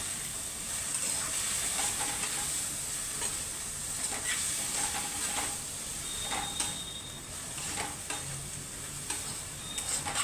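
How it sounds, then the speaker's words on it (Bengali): Chopped tomato being stirred into a pav bhaji vegetable mixture in a hot pan, with a steady sizzle and hiss under repeated soft scraping strokes of the spoon, close and continuous. "আবার সম্পূর্ণ সব জিনিসগুলো একসাথে মিশিয়ে নেব ভালো করে।"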